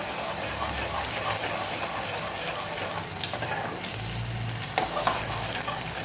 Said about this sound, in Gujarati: હવે આપણે ડુંગળી ઉમેરી દઈશું। ડુંગળીને આપણે પહેલાં સરસ સાતળી લેવાની છે।